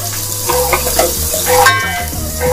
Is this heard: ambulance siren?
no